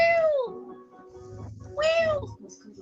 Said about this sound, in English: We have cute cat sounds